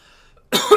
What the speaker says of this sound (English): just coughing up a storm.